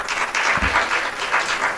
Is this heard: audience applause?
yes